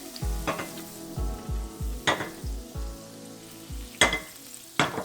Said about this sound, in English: We add it to the pot here that we're going to be cooking the mushrooms in. Let that melt.